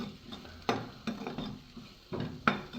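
Vegetables and capsicum being sautéed in a pan, soft sizzling with several clinking stirring scrapes at irregular intervals, close and fairly quiet.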